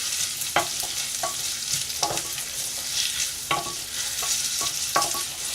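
Garlic and onion fry in a hot pan over medium-high heat to a constant sizzle, with scraping stirring strokes at irregular moments, heard up close and without talk.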